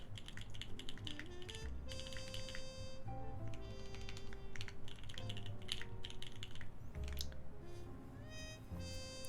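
Typing on a freshly built Geonworks F1-8X mechanical keyboard fitted with GMK white-and-black keycaps, rapid clacky keystrokes running continuously and close up over background music.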